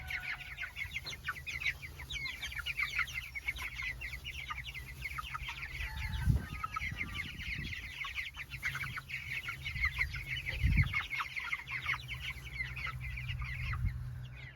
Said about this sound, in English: the chicks all got up and started walking